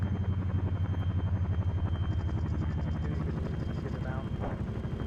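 Helicopter in the Arma 3 video game, a steady loud rotor rumble with rhythmic blade pulsing running throughout, with radio voices talking over it.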